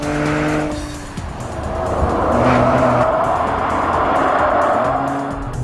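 An Audi S4 driven hard through a fast right-hand corner at around 100 mph, its engine roaring loud and steady close up, with tyre noise and a swelling note midway and no talk.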